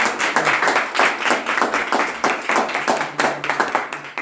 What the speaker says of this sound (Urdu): میں چاہتا ہوں یہ تالیاں بجائیں ذرا